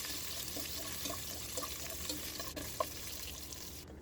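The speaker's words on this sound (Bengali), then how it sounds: "বাদামগুলো আর কিশমিশ একটু লাল করে ভেজে নিব।" Cashews and raisins frying in ghee in a pan, a steady close sizzle with soft intermittent stirring scrapes and light clicks throughout, no voices.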